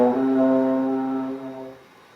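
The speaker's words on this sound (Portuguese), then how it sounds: "Então esse é o som do instrumento do trombone de pisto" A valve trombone sounds one sustained, steady brass tone, close and full, holding for about a second and a half before fading into a brief soft tail.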